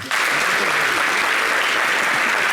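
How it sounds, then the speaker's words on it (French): Applause from a talk-show studio audience, a dense steady wash of many hands clapping that starts abruptly and holds loud and even throughout. "Applaudissez pour lui, pardon."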